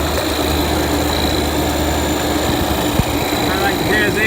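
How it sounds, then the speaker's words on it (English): A TAS 8 vacuum pump evacuates an HVAC system during a condenser coil leak repair, giving off a steady, loud motor drone that runs unbroken throughout, with one brief click near the end. "I'm gonna go ahead and go to get my vacuum pump, pull the vacuum on the system"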